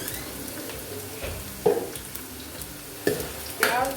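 Two or three finely chopped onions cooking in oil in a pan for chicken kofta curry: a soft, low sizzle with a few sharp stirring knocks of a spoon against the pan, fairly quiet and without speech.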